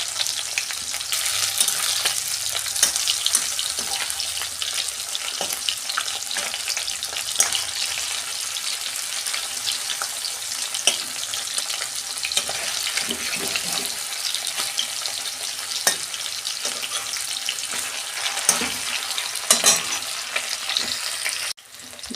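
Amudi fish pieces fry in a pan with a steady, close hiss of sizzling oil that carries on throughout, joined by occasional crackles and pops.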